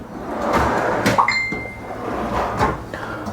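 A kitchen cabinet drawer slides and knocks shut, with a brief clink of metal lid hardware and a short rising squeak in the middle, fairly close and alone.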